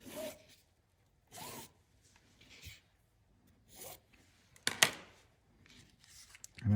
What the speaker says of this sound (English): I'll draw some guide marks here.